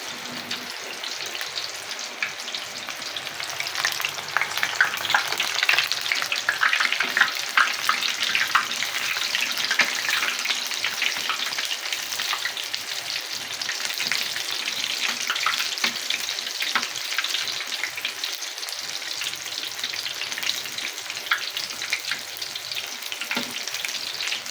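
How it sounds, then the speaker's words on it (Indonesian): Crispy battered tofu fries in hot oil while being stirred, a loud, continuous close sizzle with light scraping and bubbling throughout, no voices. "Ini kita aduk biar dia nggak nempel ya, biar tahunya kepisah-pisah."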